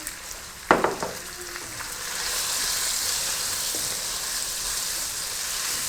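Chicken pieces and garlic sizzling and frying in a hot pan, with a sharp clatter near the start, then a steady crackling hiss throughout.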